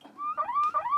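A wailing "woo woo" electronic alarm tone, rising and falling in pitch over about a second, loud and close.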